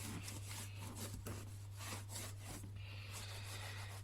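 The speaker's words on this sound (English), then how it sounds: "we're just going to quickly just give this a quick scrub" Scrubbing a wooden door threshold with a brush before undercoating, a steady run of close rasping strokes repeating over a low constant hum.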